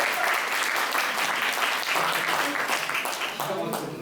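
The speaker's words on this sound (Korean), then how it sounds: "우리 한 분 경례 박수 한번 보내주세요." A congregation at a Korean church gathering gives steady, continuous applause throughout, a dense wash of clapping with a voice speaking faintly underneath.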